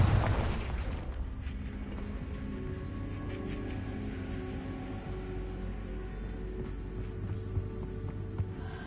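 Confringo fire-blast spell in Hogwarts Legacy, a loud booming burst at the start that rumbles on as a sustained roar with repeated crackling pops.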